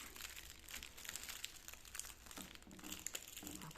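A plastic wrapper being folded around a triangle kimbap rustles and crinkles in quick, continuous bursts, close by but quiet, with no talking over it.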